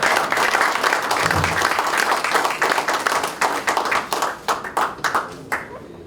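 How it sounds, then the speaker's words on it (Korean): Sustained audience applause at a Democratic Party regional supreme council meeting in Jeonbuk, dense and steady, then thinning into scattered claps toward the end. "우리 이 자리를 빌어서 뜨거운 박수 한번 보내드립니다"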